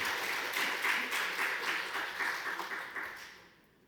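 A church congregation at a Sunday service applauds as the preacher steps up to the pulpit, a warm, steady round of clapping from a crowd that tapers off and fades out at the end.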